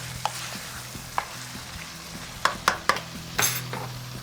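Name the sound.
washed rice being added to pot for vegetable pulao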